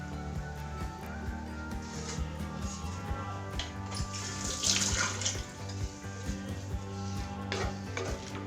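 Water runs into a pan holding cucumber and green chillies, a steady close pour with a few splashes and gurgles as it fills.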